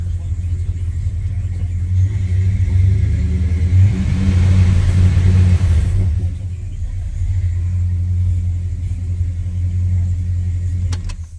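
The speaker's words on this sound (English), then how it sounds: "give her a quick rev here for you." Plymouth car engine with an ignition skip revved once, a deep rumbling idle swelling into a loud rising roar before settling back to a steady low rumble, close to the microphone.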